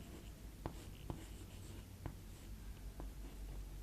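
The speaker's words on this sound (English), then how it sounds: "place the pointer at A and draw an arc cutting the line L at" Pencil on a compass scraping across paper while an arc is drawn, a few soft scratchy strokes over faint room noise.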